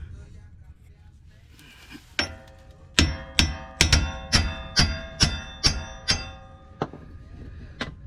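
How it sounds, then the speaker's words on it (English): Metal hammer blows knock a worn driveshaft part out of a Jeep after a trail failure: about nine sharp, ringing strikes in a steady rhythm, close and loud, following a couple of lighter taps. "got my hammer. I'm gonna knock this out and then we'll continue."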